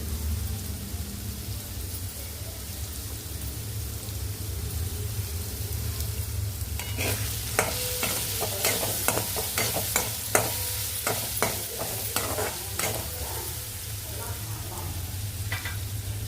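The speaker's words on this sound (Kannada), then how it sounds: "ಸ್ವಲ್ಪ ತಾಳಿ ಬಿಡೋಣ ನೋಡಿ ಇವಾಗ ಇದು ತಾಳಿದೆ" Tempering spices sizzle in hot oil for a buttermilk palade, a steady crackling hiss over a low hum, joined midway by a run of sharp clicks and scrapes from stirring.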